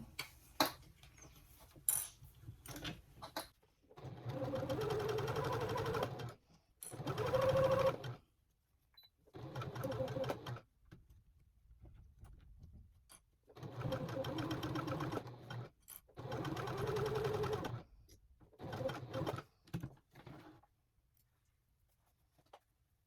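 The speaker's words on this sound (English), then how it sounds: "But I'm just gonna baste this shut." Sewing machine basting a tote bag with a vinyl accent piece shut, running in several long bursts separated by short pauses, fairly close and steady, with no talking.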